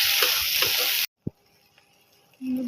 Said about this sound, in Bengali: কেটে এবার এগুলো ভেজে নেব।